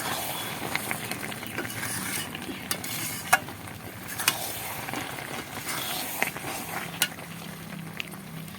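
Raw green mango pickle with ground spices being stirred and fried in a pan, a steady sizzle with scraping spoon clicks and taps scattered throughout.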